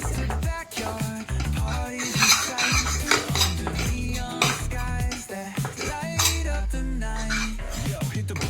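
A spoon scrapes and stirs gram flour into a pan of fenugreek leaf curry, with repeated clinking strokes against the pot under steady background music.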